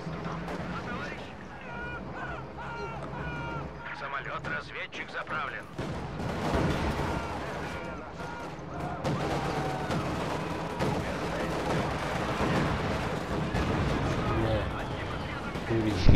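Cannon and gunfire rumble through a Company of Heroes 2 battle, with repeated booms and shots over dense, continuous game noise while voices talk over the action.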